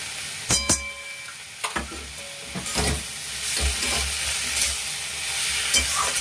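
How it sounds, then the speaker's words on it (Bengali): Prawn and arum stem curry being stirred after mustard paste goes in, a wet sizzle steady throughout with scattered scraping knocks of the spoon against the pan, close by with no talking. "দিয়ে এটাকে আমি নাড়ব এর মধ্যে সর্ষে বাটাও দিয়ে দিলাম"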